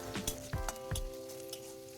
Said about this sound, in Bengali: রসুন কুচিটা তেলের মধ্যে একটু ভেজে নিচ্ছি হালকা ভেজে নিচ্ছি